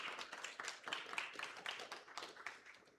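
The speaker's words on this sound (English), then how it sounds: "So another round of applause for them, please." Audience applause at a community entrepreneur gathering, a short run of steady, moderately faint clapping from a small crowd with no talk.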